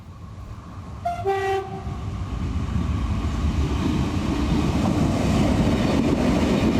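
Euskotren unit 960 on the Urdaibai branch near the Murueta halt, heading to Bermeo, sounds a brief two-tone horn, then its rumble and rail noise build steadily louder as it approaches and passes.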